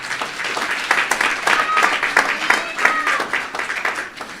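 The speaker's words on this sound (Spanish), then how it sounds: "Aplauso para o sonido romano." Congregation at a church mission service in Bonaire claps steadily in a dense, sustained round of applause, with scattered voices and a few cheers mixed in throughout.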